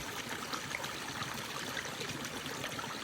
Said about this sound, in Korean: 물은 자연스럽게 흐르고 있네요